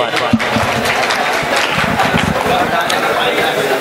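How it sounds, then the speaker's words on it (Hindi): Applause from a mushaira audience welcoming the Urdu poet Nadeem Anwar Deobandi, a dense, steady wash of clapping that carries through the whole stretch with a few sharper individual claps standing out. "जोरदार तालियों के साथ नदीम अनवर साहब का इस्तकबाल कीजिए"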